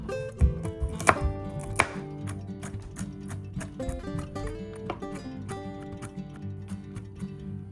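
Walnuts roughly chopped with a knife, giving irregular, fairly quick wooden knocks and taps at close range while music plays steadily underneath.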